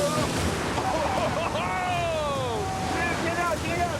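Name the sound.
strong wind and waves rocking a boat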